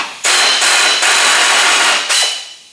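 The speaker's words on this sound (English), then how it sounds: "I'm going to take my air ratchet" An air ratchet snugs down a fender bolt on an Oldsmobile Cutlass Supreme under restoration, giving one loud, close, continuous hissing whir that lasts about two seconds with a couple of brief pauses before it trails off.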